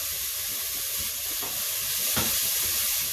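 Bacon sizzles and crisps in a pot as the base for seafood chowder, a loud, constant hiss of fat. Two brief scrapes of stirring cut through it.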